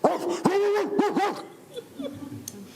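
A man mimics a bulldog's bark with his voice, giving a few loud, gruff, drawn-out woofs up close, then trailing off into quieter room noise.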